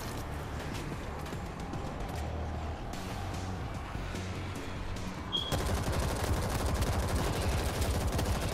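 Rapid gunfire in the video game World War Z, a dense continuous rattle of shots that grows louder and fuller after the first few seconds.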